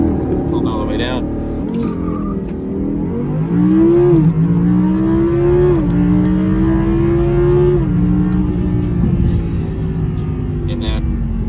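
A 2018 Audi R8 V10 Plus launches hard under launch control, its V10 roaring loud and close, the engine note climbing steadily through the gears with brief dips at each shift and no pause in the noise.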